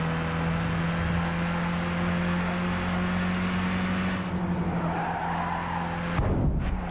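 A nearly stock Miata in a Gran Turismo 5 online race holds a steady engine tone, then crashes into another car with a burst of skidding and scraping noise at the end.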